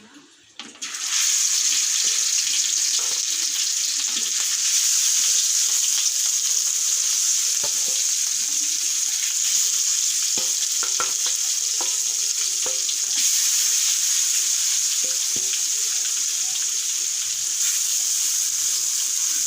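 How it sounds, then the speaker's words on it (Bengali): Rohu fish pieces sizzle steadily in hot oil in a zinc wok for a Bengali fish curry, a loud, continuous frying hiss with small crackles and pops throughout and no talking. "তা এখন দিয়ে দিচ্ছি এক এক করে সেই মাছগুলো"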